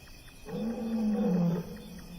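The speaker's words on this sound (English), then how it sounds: "Distant roars echo through the cool night air. Their male is calling, the sound carrying almost 5 miles across the valley" Lions roar at night, a single deep drawn-out roar from a distance that swells and fades across an open valley, with no talking.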